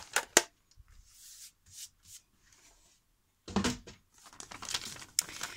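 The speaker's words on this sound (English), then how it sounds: "I'm gonna cut this piece out." Scissors cut a piece out of an old book or notebook page. Close paper rustling and crinkling alternate with short crisp snips, separated by brief quiet gaps.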